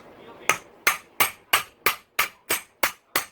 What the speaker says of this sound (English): Get the socket, put it on here, and then we'll give it some taps, see if we can get it to come loose.